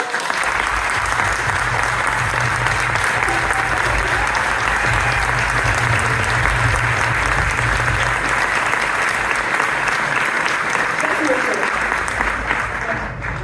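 Sustained audience applause with cheering fills a room during the presentation of a charity trail run, steady and dense for the whole stretch, with a voice faintly underneath before it tails off at the end.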